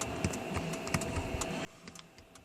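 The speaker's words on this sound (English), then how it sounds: "You can hear the relay in the BCM clicking when I apply the switch." A body control module relay clicks in a 2013 Dodge Journey when the master door lock switch is pressed, though the door locks fail to work. The clicks are faint, quick and tapping, then fade into a quieter cabin background.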